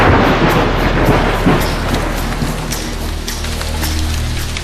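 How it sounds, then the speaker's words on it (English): Thunder rumbles loudly and close over a heavy downpour in the hot, humid wet season, then fades to a dense, steady roar of rain. "Suddenly, a storm erupts."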